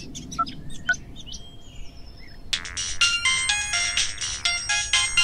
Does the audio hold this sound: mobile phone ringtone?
yes